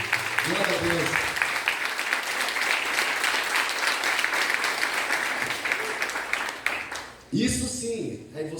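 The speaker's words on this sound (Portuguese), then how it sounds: "Aplaude forte para isso." A church congregation claps in a broad, continuous round of applause, with a voice speaking over the start and again as the clapping winds down.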